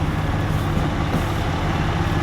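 A truck idles and rumbles loudly up close at a park where a Christopher Columbus statue is being removed, giving a steady, low diesel drone with no voices.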